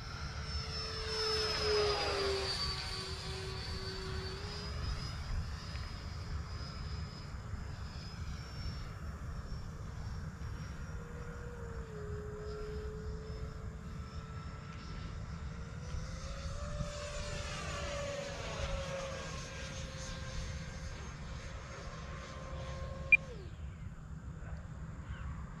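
An E-Flite F-16 Thunderbird 70mm electric ducted-fan RC jet flies at half throttle, a steady high whine that sweeps and shifts in pitch as it passes overhead, heard from a distance over outdoor background noise.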